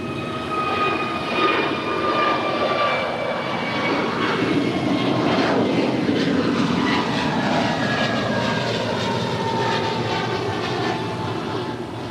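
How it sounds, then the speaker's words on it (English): A brand new American Airlines Airbus A321neo departs LAX with a loud, sustained jet engine roar and shifting whining tones, heard close and alone for twelve seconds. "That is American 2226 departing to Washington National. It's a brand new Airbus A321neo."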